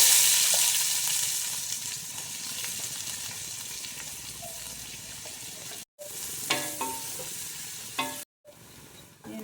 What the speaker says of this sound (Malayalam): ഇനി നമുക്ക് സവാള വഴറ്റിയെടുക്കണം